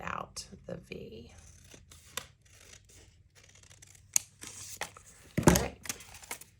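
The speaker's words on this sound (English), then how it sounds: "I'm going to cut out the V." Scissors cutting a V shape out of a paper envelope, a series of close, crisp snips and paper rustles in short irregular bursts, fairly quiet, with soft talking in between.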